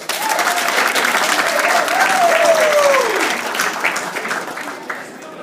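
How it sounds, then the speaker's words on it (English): Wedding guests give a sustained round of applause for the bridesmaids, loud and close, the clapping fading toward the end with a voice briefly audible over it. "A round of applause for the ladies"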